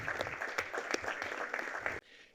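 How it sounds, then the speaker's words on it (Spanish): A burst of warm applause in the Paraguayan Senate chamber, dense clapping from many hands that cuts off abruptly near the end, leaving quiet room tone. "para quien pido un caluroso aplauso del Senado de la Nación paraguaya."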